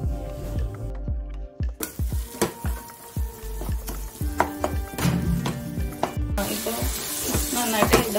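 Chopped tomatoes being sautéed in a pan for paneer biryani gravy sizzle loudly, with repeated scraping strokes of a spoon or spatula stirring against the pan at a steady rhythm.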